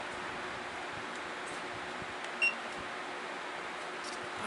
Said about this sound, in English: It'll beep each time you come up in speed.